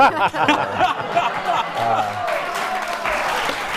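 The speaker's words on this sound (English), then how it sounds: "I love that the audience clapped at that" A studio audience claps in a sustained round of applause mixed with a few chuckles, while the on-stage guests keep talking over it.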